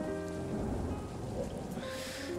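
Rain falls from a rain cloud in a video game as a steady, faint hiss of drops and patter, constant throughout with no voices.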